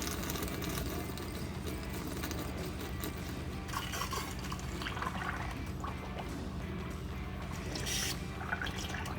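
Steady gurgling and trickling coolant with hissing air bleeding from a Cummins 8.3L engine, dripping and splashing continuously at close range.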